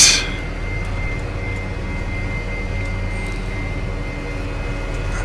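A helicopter hovers and flies in a flight simulator game over Chicago scenery, producing a steady, even engine drone that starts with a brief louder burst and has no talk.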